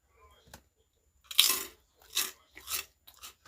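A few close, crisp crunches of fried shrimp crackers (Saeukkang) being chewed, three or four distinct bites separated by brief gaps.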